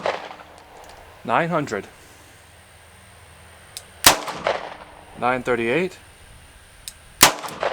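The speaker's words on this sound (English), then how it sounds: "We have the 432 Ultra Carry loaded up with some Federal 85 grain 32 Magnum. Let's go ahead and give it a go. 5-round string." Two sharp, loud gunshots from a Smith & Wesson 432 Ultimate Carry .32 H&R Magnum revolver firing Federal 85 grain rounds ring out a few seconds apart, with a voice speaking between and around the shots.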